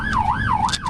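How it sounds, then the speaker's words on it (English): An EMS emergency vehicle siren wails up and down in smooth, repeating sweeps, steady and fairly close, with low road rumble beneath. "The wail of sirens, the rush to respond."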